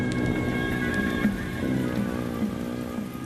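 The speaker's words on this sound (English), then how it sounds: "It's been raining a lot." Heavy rain falls steadily in an even, dense patter with a few louder drops striking a nearby surface, and no voices over it.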